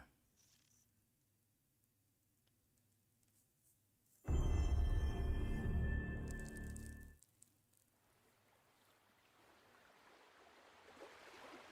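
Water rushes in a sudden loud, full burst for about three seconds in a video game trailer, then cuts back to a quiet, faint trickling hiss.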